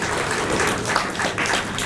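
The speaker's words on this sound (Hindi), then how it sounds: "एक बार जोरदार तालियों से इनका अभिनंदन कीजिए।" Audience applause at a Hindi book release function for a poetry collection, a dense steady wash of clapping filling the whole short stretch at even loudness, with no talk over it.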